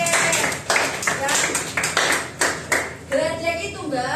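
A small group claps in a few separate, spaced-out claps mixed in with ongoing conversation, close and moderately loud.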